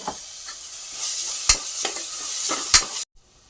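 Onions and ginger-garlic paste fry in a pan, giving a steady hiss with sharp scraping stirs and a few louder spoon knocks before the sound abruptly cuts out.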